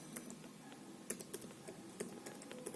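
Quick, faint clicking keystrokes on a computer keyboard as a command is typed, a steady patter with a few sharper taps over a soft background hum.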